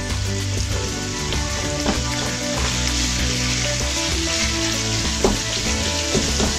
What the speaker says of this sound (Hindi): हम अच्छी तरह इसको भूनते हैं